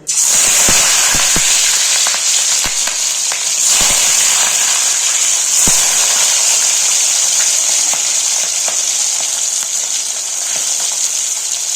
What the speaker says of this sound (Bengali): কড়াইতে তেল দিয়ে দিয়েছি তেলও গরম হয়ে গেছে এবার আমি এক এক করে এই মাছগুলো ছেড়ে দেবো